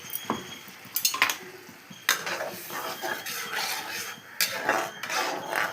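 Ground spice paste, salted and blended, dropped into butter and garlic in a pan for spicy pasta, with a few clattering knocks of a spoon against the pan, then a steady frying sizzle and stirring scrapes, close and fairly loud.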